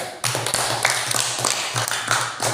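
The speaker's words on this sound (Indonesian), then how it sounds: "kita berikan tepuk tangan untuk kelompok 3" Students in a classroom clap for a student group, a loud, close burst of brisk, slightly uneven hand claps with sharp individual slaps.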